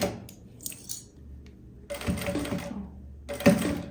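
Sewing machine stitching a seam on a quilted puffer tote bag near a zipper, short close bursts of fast stitching separated by quiet pauses with small taps and clicks.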